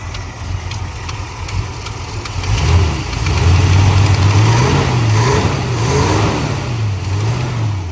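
A 1958 Plymouth Belvedere's 361 big block V8 idles up close with a deep, uneven rumble that swells slightly as it runs, steady and loud without voices.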